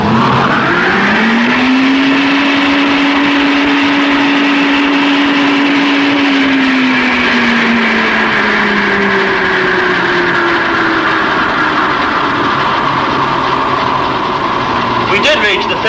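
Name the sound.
wind tunnel blower running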